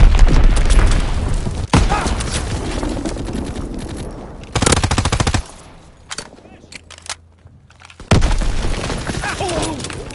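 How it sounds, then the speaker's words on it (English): A Call of Duty enemy bomb explodes amid heavy combat, with loud bursts of machine-gun fire and booming blasts that cut off sharply, leaving quieter gaps before the shooting resumes. "Enemy bomb incoming! Get to cover!"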